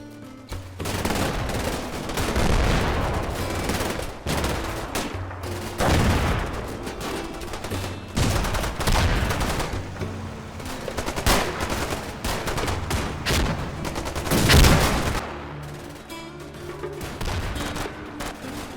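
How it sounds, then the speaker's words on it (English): A Cromwell tank in the Combat Mission wargame firing on occupied buildings amid a street battle, repeated heavy booms and rattling bursts of gunfire rolling over one another, loud and continuous with no speech. "starting with a Cromwell that begins laying down fire on occupied buildings"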